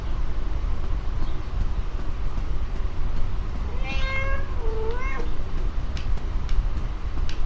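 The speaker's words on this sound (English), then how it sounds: "Meow." A cat in the video game Five Nights at Freddy's: Into the Pit meows twice in quick succession over a steady background hum, the cries clear and mid-loud.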